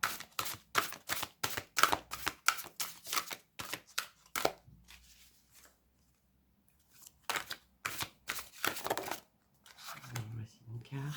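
Oracle cards being shuffled in quick riffling bursts, a run of crisp papery flicks followed by a pause and then a second flurry, fairly close and alone.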